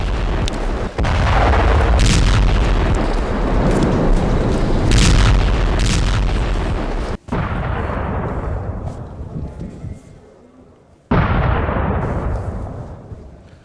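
Russian artillery shells strike Kherson in a series of heavy, booming blasts. They come loud and close together, with rumbling roars and sharp onsets, and each tails off into fading rumble.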